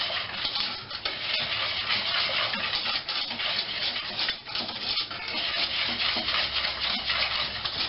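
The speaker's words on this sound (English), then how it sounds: "when you actually commence to cooking, just keep stirring it" A spoon stirs chocolate pudding made with milk in a pot on the stove, giving continuous scraping and swishing with faint sizzling underneath and occasional sharper clinks, steady and close for the whole stretch.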